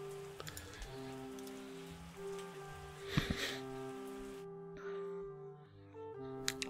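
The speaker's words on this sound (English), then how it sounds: "Alright, so now we're getting all the rain," Rain falls in the wine-making video game Terroir, a soft steady patter beneath looping game music, fairly quiet with no talking.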